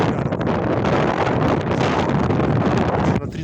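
Strong wind buffeting a tent on the ice during winter ice fishing for whitefish, a steady loud broadband roar with gusty flutter throughout, close to the microphone and with no talk over it.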